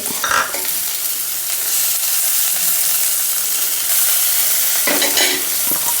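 Onions and green chillies frying in a spoonful of oil, a loud continuous sizzle with scraping stirs near the start and again toward the end.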